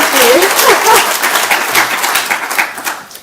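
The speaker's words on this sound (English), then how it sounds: "Can I have a rapturous round of applause?" Rapturous round of applause from a marketing conference audience in a live workshop hall, loud dense clapping that tails off gradually over a few seconds.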